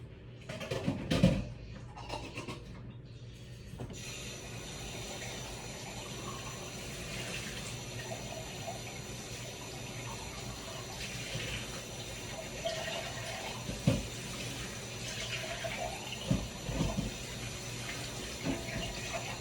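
Tap water runs steadily into a kitchen sink while something is strained, a constant hiss with a few sharper clatters and splashes near the start and scattered knocks later.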